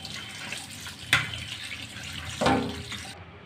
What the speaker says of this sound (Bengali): এটাকে আমি একটু ঠান্ডা জলে ধুয়ে নিব।